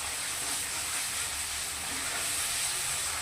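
Vegetables frying in oil rendered from katla fish give off a steady, even hiss with no breaks, close and fairly loud, with no talk.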